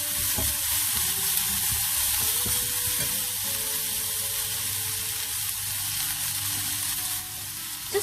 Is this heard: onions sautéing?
yes